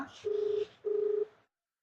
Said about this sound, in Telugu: సో రింగ్ అవుతుంది అనమాట